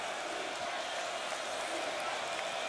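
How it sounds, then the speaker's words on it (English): Stadium crowd at a Notre Dame at Texas A&M college football game, a steady distant roar of many voices, even and sustained, under faint commentary. "Irish crowd making a little noise here."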